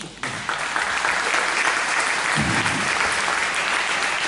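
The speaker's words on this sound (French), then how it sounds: "on peut les applaudir aussi" A crowd applauds steadily for about four seconds, a dense, continuous patter of many hands clapping close by.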